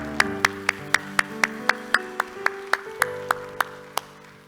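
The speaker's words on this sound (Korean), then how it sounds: "우리 하나님께 영광의 박수합니다" A church congregation claps steadily and evenly in unison, about fifteen sharp beats, over a soft sustained musical tone.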